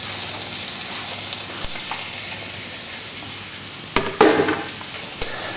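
Onions frying in oil in a pot over medium heat make a continuous, close sizzle, with a few sharp stirring knocks and a brief louder burst of crackling toward the end.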